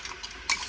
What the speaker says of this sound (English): stir it like that